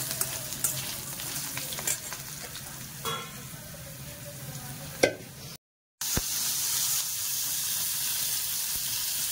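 Cauliflower frying in a pot for homemade veg pulao crackles with a steady close sizzle, broken by occasional stirring scrapes and clinks and a brief drop to silence partway through.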